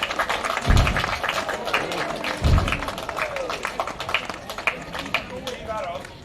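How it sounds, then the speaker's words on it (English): An outdoor park audience applauds fire performers at a public event, a dense, sustained crowd clapping heard close and loud, with a couple of heavy thumps near the start and scattered voices. "Amazing fire performers. Give them a round of applause."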